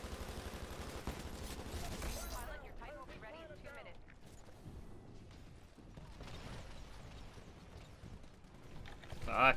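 Rapid gunfire bursts from the Titanfall video game, dense and loud at first, then fading into scattered mechanical clanks and shots mixed with game effects and occasional voice.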